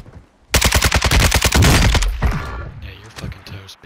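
Rapid automatic gunfire in a third-person shooter game, a loud close burst of evenly spaced shots lasting over a second, followed by scattered impacts and trailing noise.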